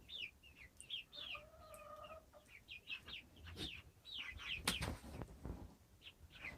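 Chickens cluck softly at a distance, with small birds chirping and tweeting around them in a quiet outdoor setting.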